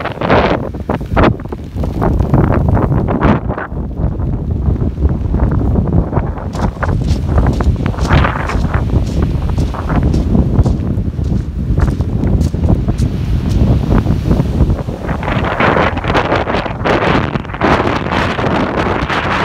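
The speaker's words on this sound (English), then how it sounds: "It's going to get really windy in a second" Strong wind roaring continuously against the microphone, loud and buffeting, with rushing water and sea noise underneath throughout, aboard a sailboat in the English Channel.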